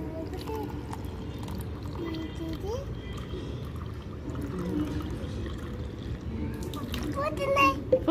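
Water is poured into a glass of Rasna orange drink at home, a soft trickling pour running under a child's and an adult's talk, with the flow growing louder toward the end.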